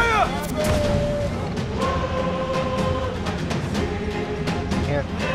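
Ship cannons fire in a naval battle in Assassin's Creed 4: Freedom Cry, with repeated booming blasts and crashes under continuous game music and shouted orders.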